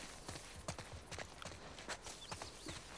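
Several horses in The Last of Us Part II move with soft, steady clip-clop hoof steps, faint and fairly distant against a constant background hiss, with no talking.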